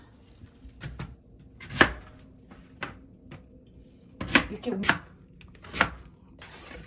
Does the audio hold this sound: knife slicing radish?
yes